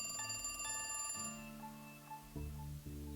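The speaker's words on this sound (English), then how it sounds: "I really want to answer that phone first." A telephone rings in The Cat Lady video game, giving a quiet, electronic ringing pattern of repeated tones with a faint, steady hum underneath and no speech.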